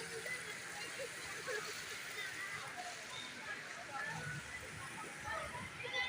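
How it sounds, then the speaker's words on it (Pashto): Floodwater surging after heavy rain in Takht-i-Bahi, a steady broad rushing and sloshing that runs throughout, with someone talking over it. "غلام بھائی پکې راکه غلام بھائی سیلاب راغلی دی"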